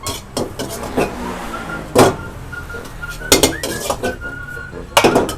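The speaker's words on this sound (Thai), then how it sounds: "เดี๋ยวเราคนทีนึงก่อน" A metal spatula scrapes and clanks against a pan while crab fried rice is stirred. Sharp irregular strikes ring out over a steady background sizzle.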